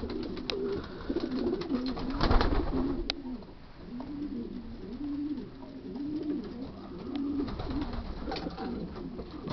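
Yearling racing pigeons coo steadily in a one-loft race loft, with repeated soft rolling calls overlapping throughout and light wing flutters and scuffs in the background.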